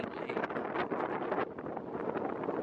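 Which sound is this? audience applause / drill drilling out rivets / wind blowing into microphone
wind blowing into microphone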